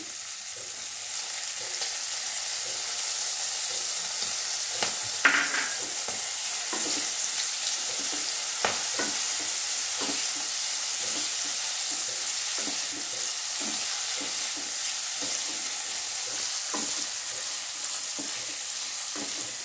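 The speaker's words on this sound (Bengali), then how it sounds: "এখানে জিঞ্জার মানে আদা টুকরো টুকরো করে কেটে রেখেছিলাম, সেইটা দিয়ে দিচ্ছি" Chopped ginger hitting hot oil in a wok, a strong close sizzle with repeated scraping and clinking stirring strokes at an uneven rhythm, plus a few sharper knocks; no talking.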